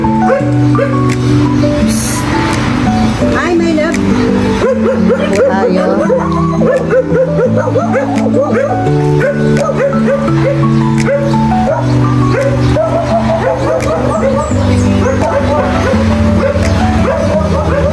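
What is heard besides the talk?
many dogs barking and yipping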